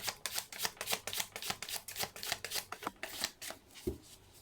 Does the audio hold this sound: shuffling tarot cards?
yes